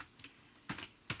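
Three short bursts of typing on a Mac computer keyboard, quiet and close, with soft clicks at the start and two louder key clusters later, no voices.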